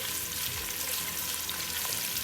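Onions blended with pepper and crayfish fry in a pot for ogbono soup, producing a continuous, even sizzle that stays close and steady from start to finish.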